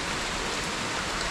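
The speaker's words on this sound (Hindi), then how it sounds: "बारिश है, थोड़ा मुश्किल है." Rain falls outdoors in Kerala, a steady, even hiss of water that fills the short moment without a break and with no voices.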